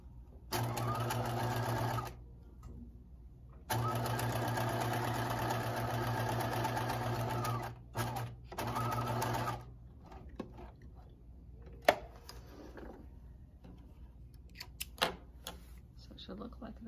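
A home sewing machine stitching fabric while a romper is sewn, running in two long steady bursts and a few short ones, then stopping, with quiet handling noises afterward.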